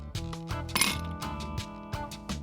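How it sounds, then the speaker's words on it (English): Mint leaves, a lemon slice and several ice cubes dropped into a glass, giving a series of sharp clinks and clatters, close and clear, with no talking. "Next, I am adding 2 to 3 mint leaves, 1 slice of lemon and 4 to 5 ice cubes."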